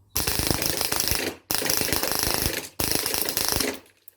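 Three rapid bursts of full-auto fire from an HPA airsoft gun with a high-capacity magazine, each a dense, fast mechanical rattle lasting over a second, separated by short pauses.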